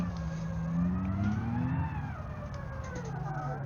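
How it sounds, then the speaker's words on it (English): A truck in the BeamNG driving game whines in reverse gear, a steady rising and falling mechanical tone over a low engine drone, continuous and moderately loud. "the reverse gear actually makes a lot of noise"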